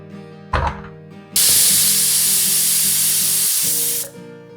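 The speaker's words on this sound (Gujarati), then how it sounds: "અને સ્લો ગેસની ફ્લેમ પર 1 વિસલ થવા દઈએ." A pressure cooker on low gas heat lets out a loud, sustained steam whistle while cooking dudhi halwa. A short burst of hiss comes first, then a long steady blast lasting several seconds over a low hum.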